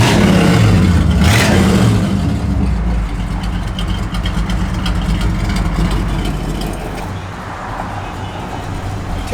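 A 1962 Pontiac Catalina V8 with its exhaust cutouts opened, loud and close, revving hard at first then settling into a heavy, rumbling idle.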